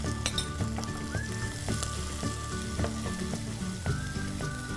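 Ginger, garlic and green chilies sizzle steadily in hot oil for a North Indian pulao, close and loud, with repeated clinks and scrapes of a spoon stirring against the pan at an uneven rhythm.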